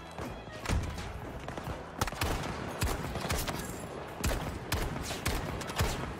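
Desert Eagle pistol shots ring out in a Battlefield 2042 match, a rapid run of sharp, punchy reports at irregular intervals over a steady din of battlefield noise and other distant gunfire.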